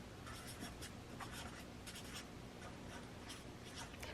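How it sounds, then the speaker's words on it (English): A pen scratches steadily across paper as someone writes out a date for a giveaway drawing, soft and close, with a faint continuous rustle and no talking. "So let me write that down."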